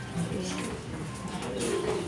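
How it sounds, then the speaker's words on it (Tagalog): Pigeons on a very hot day give soft, low cooing, close and muffled under a steady background hum. "Yung mga kalapati natin, hinihingal kasi sobrang init."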